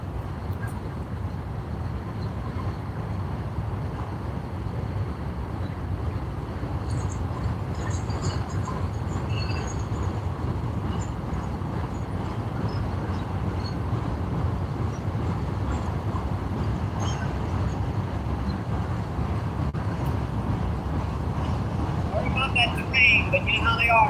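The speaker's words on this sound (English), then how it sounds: "Sorry about that train" A train rumbles by near a riverside fishing spot, a steady low continuous roar lasting throughout, with occasional faint voices underneath.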